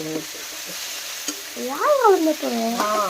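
Okra (lady finger) fries and is stirred in a pan, with close sizzling and scraping. Short bursts run over a quiet background, and squeaky, whining tones rise and fall in the second half.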